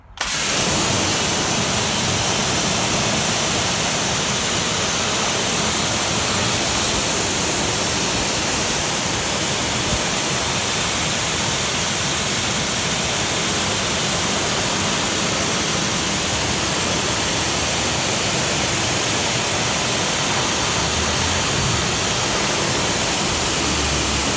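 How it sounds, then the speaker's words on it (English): Water streams steadily through a washed car air filter during its second wash, a continuous broadband rush like a tap or spray with no pauses and no speech. "I want to start off by putting the water through this side and coming out the other side"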